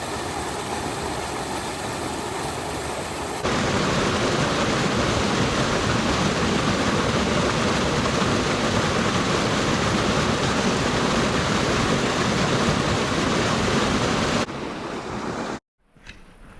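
Small waterfall along the Timberline Trail on Mt Hood, a loud, constant close-up rush of falling water that swells after a few seconds, holds steady, then drops away near the end.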